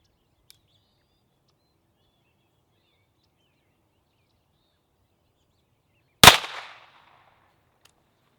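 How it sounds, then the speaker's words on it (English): Single loud gunshot fired at a Coosa subfloor panel outdoors: one sharp crack with a brief ringing decay after long silence, with a faint click near the start. "we're gonna shoot it a little off center and see if it'll actually stop it"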